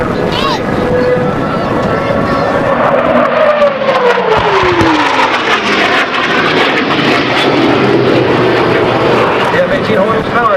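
A twin-turbofan F-18 Hornet roars past at an air show, a loud, continuous jet roar whose pitch sweeps down as it passes, with a voice talking over it throughout.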